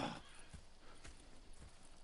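Faint, distant hoof clops tick in a slow, even rhythm, a horse walking at a gentle pace with no voices, in the video game Red Dead Redemption 2.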